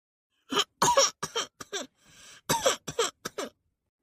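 A series of short, harsh coughs close up from an elderly woman, coming in two bursts with a brief raspy breath between them.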